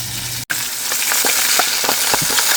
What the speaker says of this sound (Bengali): এই মাছ লাল করে ভাজা দিব।